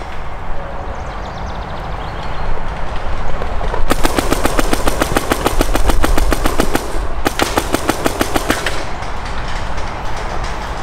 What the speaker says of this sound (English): My gun's doing the thing, or it's only firing after like one or two shots.